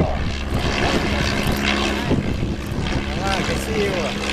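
A Tiger Moth biplane's propeller engine drones steadily nearby at an air show, a loud continuous rumble while a voice talks over it.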